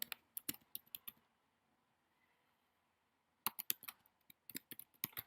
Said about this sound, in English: Now here you should type the name called